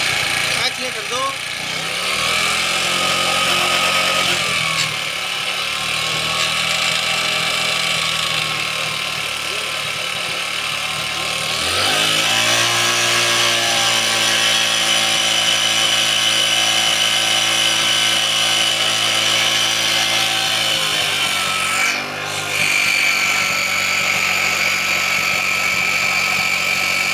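A 70cc motorcycle engine with a rectifier wiring fault revs up and down in a workshop, a loud buzzy drone that rises in pitch twice and then drops back, with brief talking nearby.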